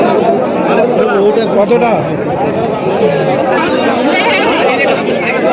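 A packed village goat market in Bangladesh, with a dense crowd murmuring steadily and close by, and voices overlapping in continuous chatter as people haggle.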